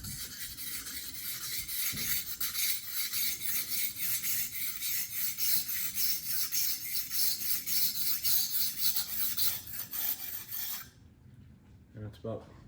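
A knife glides across a wet whetstone in steady back-and-forth strokes, a close rasping scrape pulsing rhythmically for about ten seconds before stopping, followed by a brief clatter.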